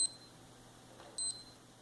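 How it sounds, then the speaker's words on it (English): A Timex Marathon digital wristwatch gives two short, high, thin alarm-chime beeps, one at the start and one about a second later, over a quiet background. "it gives you an alarm, or it chimes every hour"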